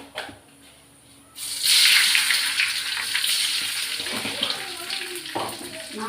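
Mustard seeds dropped into hot oil for lemon rice burst into a sudden loud sizzle after a quiet start, then keep crackling and spitting steadily up close.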